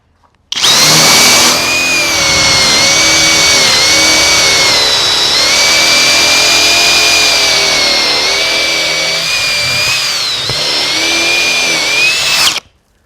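A power tool running in turbo mode cuts through wood with a loud, sustained high-pitched whine for about twelve seconds, steady with slight wavering, starting and stopping abruptly.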